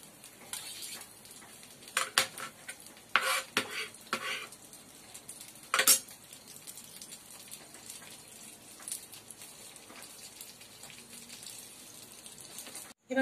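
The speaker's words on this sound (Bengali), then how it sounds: "বাটারটা গলে গেলে আমি এর মধ্যে রসুনটা ফোড়ন দেবো।" Chopped garlic dropped into melted butter in a pan for palak paneer, giving a soft broadband sizzle with scattered clinks of a spoon against the pan and a few louder scraping bursts, with no talk over it.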